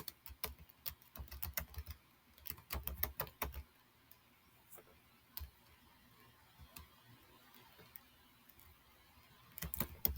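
Text being typed on a computer keyboard, quiet close key clicks arriving in irregular bursts with pauses between them, and a few louder clusters at the start and the end.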